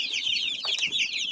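Chicks at a poultry farm peep in a dense, continuous high chatter at close range, a few brief louder calls rising above the steady chorus.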